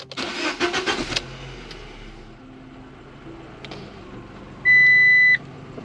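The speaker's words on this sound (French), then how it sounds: "Je démarre la voiture." A Fiat Grande Punto 1.4 T-Jet with a lambda sensor fault cranks and fires with a rough burst, then settles into a quiet idle, with a steady electronic beep sounding near the end.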